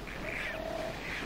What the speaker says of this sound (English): This small cormorant colony is a busy place.